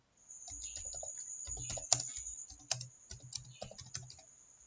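Close, quiet typing on a computer keyboard: irregular clusters of light key clicks and a few sharper taps, with a steady high electronic whine underneath and no talking.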